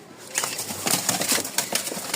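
A Rajshahi Giribaz pigeon in aerial flight gives a quick run of close, rhythmic wing flaps that lasts about two seconds.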